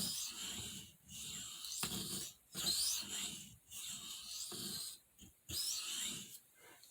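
Knife blade drawn across a sharpening stone in repeated rasping strokes, each a loud gritty scrape separated by short pauses, close up and without speech.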